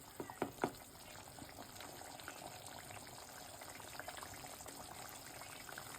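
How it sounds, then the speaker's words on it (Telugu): Fish curry simmering in a covered pot makes a faint, steady bubbling hiss. A few soft knocks sound at the start. "మూత పెట్టి మసలనిద్దాం. మసులుతుంది."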